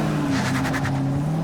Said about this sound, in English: the truck was peeling from the parking lot.